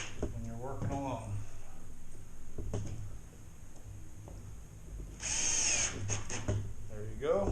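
A screw gun with a magnetized tip drives screws into a drywall ceiling patch during a repair after a plumbing leak, with short whirring bursts and a longer high drive near the end, while someone talks throughout.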